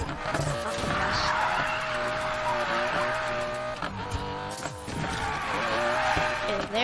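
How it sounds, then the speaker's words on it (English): A Nissan GTR drifting in a video game, tires squealing in long wavering screeches over a revving engine, sustained and loud with brief dips as the slide shifts. "This car is like my main drift car today"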